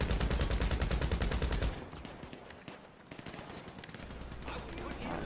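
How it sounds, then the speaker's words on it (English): Rapid automatic gunfire in a large room during a GTA V Online heist, a dense burst of shots that stops abruptly, followed by scattered distant shots and faint speech. "Now I keep shooting right there next to that green box."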